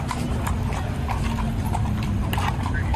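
A horse's hooves clip-clop on a street in a quick, steady rhythm of close, distinct strikes, with a busy background murmur running underneath.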